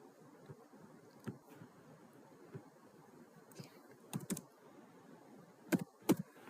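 Someone types Python code on a computer keyboard with quiet, sparse keystrokes that fall in uneven bursts. The last few strikes are louder, heard close up in a fairly silent room.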